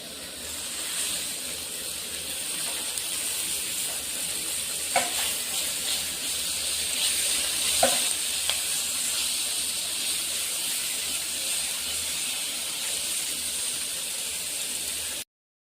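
Finely chopped tomatoes frying in a pan of spice masala for a pumpkin (kaddu) sabzi: a steady, close sizzling hiss that runs throughout, with a few brief stirring knocks and no talk.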